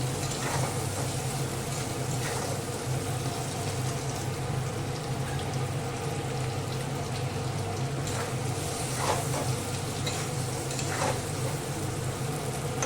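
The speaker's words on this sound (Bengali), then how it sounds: "এর মধ্যে একটু হলুদ দিচ্ছি সামান্য। হালকা হালকা আলুটা ভাজবো।" Potato pieces frying in oil in a pan with a little turmeric added, a loud steady sizzle with a low hum underneath and occasional stirring scrapes, close and continuous without talk.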